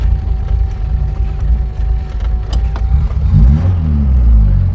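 A Ford Escort Mk2 1600 Sport engine heard from inside the car, a rough steady rumble that swells as it accelerates, its pitch rising and climbing through a gear near the end.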